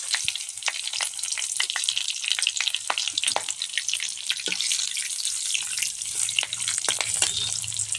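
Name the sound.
whole spices, green chili and ginger frying in oil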